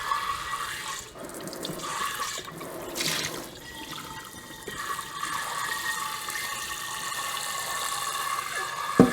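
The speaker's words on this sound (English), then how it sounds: "We're gonna add water." Tap water runs into a pot for black bean soup in a home kitchen, a splashing, gurgling stream that surges and shifts in pitch as the pot fills, close and fairly loud with no voices.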